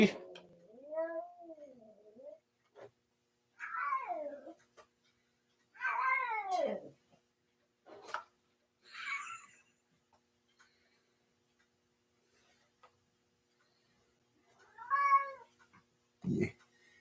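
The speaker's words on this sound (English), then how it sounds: "you guys heard the cat" A house cat meowing and caterwauling in a quiet room, about half a dozen drawn-out, wavering cries spaced a few seconds apart, close and clear, with faint ticking in the background.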